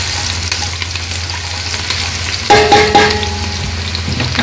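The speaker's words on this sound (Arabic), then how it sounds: "هقلبه تقليبتين كده مع البهارات" Meat stirred with spices in a hot pan, a steady close sizzle of frying with scraping stir sounds, and a louder burst of crackling and clinks midway as the pieces are turned.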